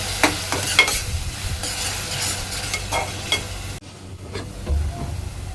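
Tomato puree fries on onions in a pan for prawn pulao, a close, steady sizzle broken by spoon scrapes and stirring clatter, with no talk.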